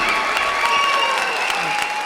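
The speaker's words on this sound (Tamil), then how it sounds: "பன்னெண்டு நிமிஷத்தில் மிகச்சரியாக பேசி இத்தனை கைத்தட்டல்கள் வாங்கிய கவிதாவுக்கு என்னுடைய வாழ்த்துக்களும் பாராட்ட" Audience applause at a Tamil speaking event, bursting out as a speech ends; a dense, steady wash of many hands clapping fills the whole moment at even loudness, with no voices standing out.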